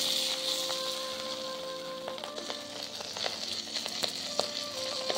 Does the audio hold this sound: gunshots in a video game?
no